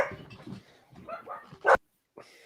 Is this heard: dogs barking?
yes